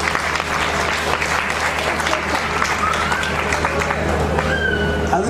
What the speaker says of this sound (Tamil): அவங்களுக்காக பெரிய கைத்தட்டு கொடுங்க.